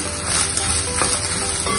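Beef for lasagna sautéing on a medium-high flame, its moisture mostly cooked off, giving a close, loud, continuous sizzle and crackle with faint stirring scrapes and no voices.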